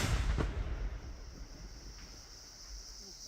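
An army detonation of a roadside IED beside the Srinagar–Baramulla national highway sounds as a faint, distant boom that fades into a long, low rolling rumble.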